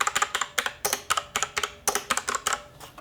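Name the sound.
mechanical keys of Blackmagic Speed Editor keyboard clicking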